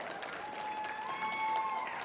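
Audience applause at a team meeting, a soft, distant patter of clapping hands that continues steadily with a few voices murmuring underneath.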